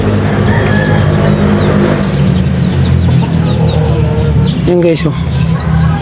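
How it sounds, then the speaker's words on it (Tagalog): Chinese chicken hens clucking at a native egg-laying spot, intermittent calls close by under a steady background hum, with a person speaking briefly partway through. "Yan guys, Chinese chicken."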